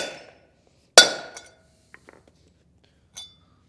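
A Timken L68111 bearing race is hammered in with a socket on a 2022 Forest River Rockwood Geo trailer: one loud, ringing metallic strike, then a few faint taps and a lighter clink near the end.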